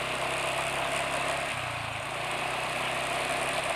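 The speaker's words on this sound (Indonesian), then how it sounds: "RPM mesin nggak terlalu cepat turun, suara mesin tidak terlalu ngelidik" A car engine idling steadily on Pertamina engine oil, a continuous low rumble with a slight pitch change midway, close and loud with no talk.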